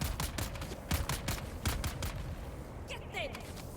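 Enemy gunfire in the video game Dune Awakening, in Hagga Basin, against a Mk6 shield: a ragged string of sharp shots in uneven bursts, fairly faint, ending with a brief whooshing effect.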